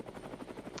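Helicopter in the Brick Rigs video game, a steady rotor beat with regular rhythmic pulses throughout, close and continuous with no talking.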